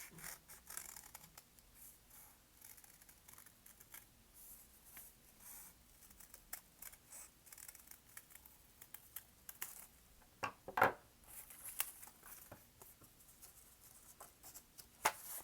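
Scissors snip through a stack of folded paper hearts in a quiet room, producing soft, scattered crisp cuts and light paper rustles at close range, with a few sharper snips.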